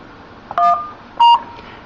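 Two short telephone keypad tones on an Avaya IP Office phone system, each a clean electronic beep lasting a fraction of a second, loud and close with quiet in between.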